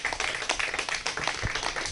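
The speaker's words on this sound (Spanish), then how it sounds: "Denle un aplauso" A congregation claps at a Shabbat service, a brief burst of dense, fairly loud applause lasting under two seconds.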